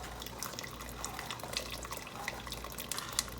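Liquid from cooked green peas pours through a strainer in a steady, close wash of water with faint drip-like spatters, no talking over it.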